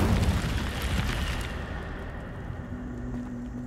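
Incendio, a fire spell in Hogwarts Legacy, erupts with a loud bursting roar that crackles and rumbles for about a second and a half, then fades to a low, steady background hum.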